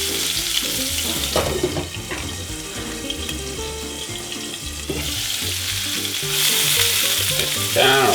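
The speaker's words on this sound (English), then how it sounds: "Take a close-up of that cooking in the pan here." Pork fried rice sizzles steadily in a pan, with continuous frying and stirring noise and a watery hiss, over background music with no talking.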